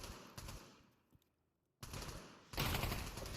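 Gunfire in the Pavlov VR shooter during a competitive VRML league match, heard as a crackle of shots that fades to near silence, then two loud, dense bursts close by toward the end.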